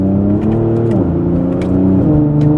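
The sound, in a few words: Kia Stinger GT loud exhaust accelerating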